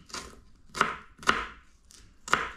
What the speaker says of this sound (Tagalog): Hiwa po tayo ng luya.